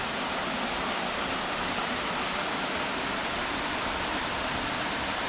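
A waterfall on a hiking trail roars with a steady, dense rush of falling water, loud and unbroken throughout with no voices.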